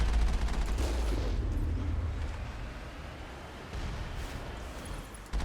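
Turret gunfire in Mass Effect, a steady rumbling barrage of rapid fire with heavy low booming that runs continuously throughout, loud and unbroken, with no speech.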